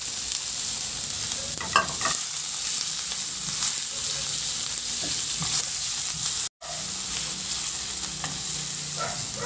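Ginger and onion sautéing in a pan for cheesy milkfish, a continuous close sizzle with occasional stirring scrapes and a brief cut of silence midway.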